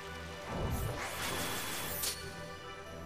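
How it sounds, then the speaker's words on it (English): Rain falls in the Final Fantasy XII game world, a steady hiss rising into a loud crashing burst partway through, then settling back to a softer wash. "It's raining. But I'm typical. I like the rain. A nice pitter patter of the rain."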